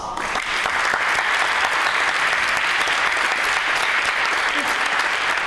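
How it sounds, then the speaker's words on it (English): Warm applause from a conference-hall audience at a youth-day event for a student team about to present, a thick, even roar of many hands clapping that continues unbroken throughout. "So please, support them with a very warm applause."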